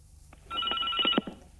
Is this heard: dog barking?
no